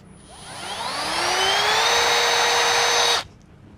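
A Milwaukee M12 impact drill runs alone on speed one, its motor whine rising smoothly in pitch as it spins up, then holding a steady high drone for a couple of seconds before cutting off abruptly, close and fairly loud.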